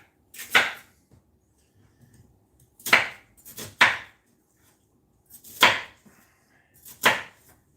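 A knife chopping onions on a cutting board, five or so sharp, separate whooshing cuts spaced irregularly with quiet gaps between them.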